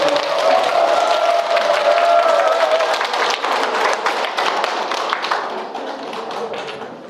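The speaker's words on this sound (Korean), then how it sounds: "큰 박수를 맞이해 주십니다" A crowd of elderly attendees at a senior college in Angang gives a big round of applause welcoming a priest lecturer; loud, dense clapping that starts with a tonal note and gradually thins and softens toward the end.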